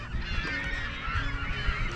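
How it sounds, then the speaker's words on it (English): Geese honk near the shore of Millerton Lake, California, among sailboats, giving a continuous cluster of overlapping calls at moderate distance. "Lots of birds."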